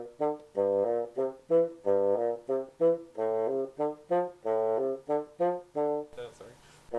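Bassoon plays the opening half of an all-state audition scale passage, a run of detached and slurred notes stepping up and down, played twice near and clear, ending in a brief breathy noise.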